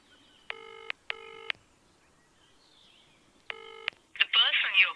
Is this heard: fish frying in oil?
no